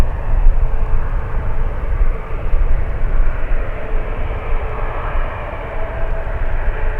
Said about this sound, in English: let's go over to the final approach. Let's go over to the Turkish A350.